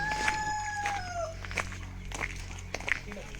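Chickens and roosters at the entrance of a hill-station bird park, with a drawn-out crow near the start and several short clucks and calls after it, heard at moderate distance over background murmur.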